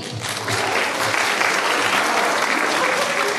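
A concert audience at a school Christmas concert in Vidin breaks into loud, dense applause that swells quickly and holds steady as one continuous wash of clapping.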